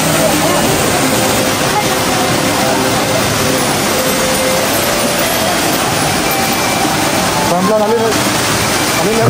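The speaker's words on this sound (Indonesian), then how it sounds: "Grojogan atau air terjun sudah terlihat." Steady broadband roar of a waterfall, the Dedari bathing cascade at Pura Taman Pecampuhan Sala temple, loud and continuous throughout with no pauses, a brief vocal sound rising over it near the end.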